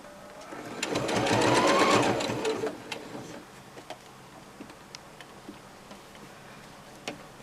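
A sewing machine stitching a fabric scrunchy hair tie runs in a loud whirring burst for about two seconds, then stops, followed by scattered light clicks and ticks of handling the machine.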